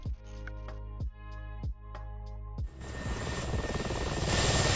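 Mi-24 attack helicopter in a combat video game, rotor whine and engine roar swelling steadily louder after a few sharp rhythmic thumps at the start, heard alone without talk.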